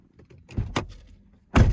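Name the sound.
opening door of 2021 Chevrolet Silverado truck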